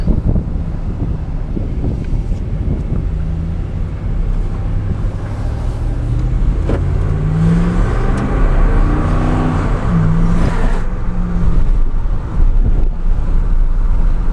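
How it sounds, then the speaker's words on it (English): Steady wind buffeting through the window of a moving 2014 Dodge Ram Hemi short bed truck, with low road rumble, a continuous rushing noise throughout with no voices. "Go ahead and get rid of the wind noise here. Wind noise is a little bit more."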